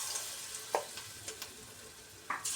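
Cauliflower pieces for gobi manchurian fry in hot oil with a steady soft sizzle, punctuated by a few brief crackles and pops as pieces go in one by one.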